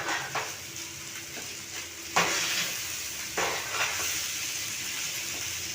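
Chicken with coriander, cumin, chaat masala and garam masala fries in a pan under a steady sizzle, with a few sharp scraping stirs of the spatula cutting through the hiss, close and without talking.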